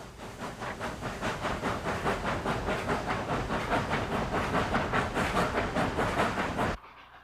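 A steam locomotive on the Cumbres & Toltec Railroad works hard up a steep grade, its exhaust chuffing in a steady rapid rhythm over continuous hiss and rumble, loud and close throughout before stopping suddenly near the end.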